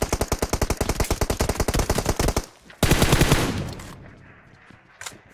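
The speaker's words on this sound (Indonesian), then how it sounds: "Suara tembakan juga kedengaran sama gue lo." Rapid, close automatic gunfire in the video game PUBG Mobile rattles in a long burst, then a second loud blast of fire trails off into fading echoes and a few distant shots.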